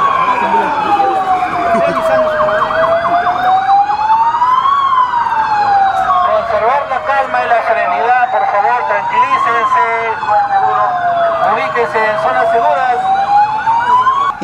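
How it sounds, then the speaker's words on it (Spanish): Evacuation sirens wail loudly at night during an earthquake and tsunami drill, their tone rising and falling in slow repeated sweeps, with overlapping siren layers and the murmur of activity beneath. "donde el sonido de las sirenas tenían que evacuar buscando una zona segura"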